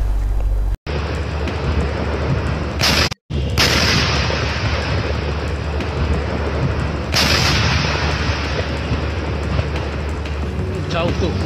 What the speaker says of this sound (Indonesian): kita lihat bagaimana detik-detik terjadinya ledakan yang menewaskan 13 korban dalam video berikut ini